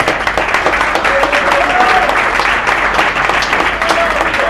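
Steady, dense applause from a large crowd at a political gathering announcing a candidacy, loud and continuous throughout with a faint tonal whistle or cheer rising over it.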